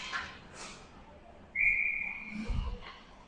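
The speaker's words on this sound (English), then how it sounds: "Whistle means icing." A referee's whistle at an ice hockey game gives one sharp, sustained blast mid-clip over faint arena ambience, with muffled thuds just after.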